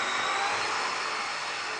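Small Supercub model airplane taking off from a coffee drying deck, its electric motor giving a steady, loud broadband whine that holds level throughout without any talk.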